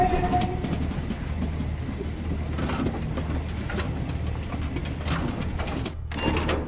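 A train rumbles along steadily in the video game Voidtrain, with a constant low mechanical drone, rolling clatter and scattered metallic clicks and hisses over several seconds, fairly loud and with no voices.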